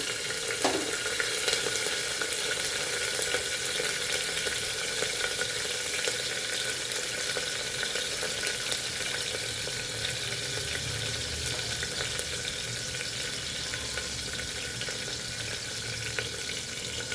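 Green chilies frying in tempering oil for a bottle gourd curd pickle, a steady broadband sizzle that holds at an even level throughout, with a brief clink near the start and no talking.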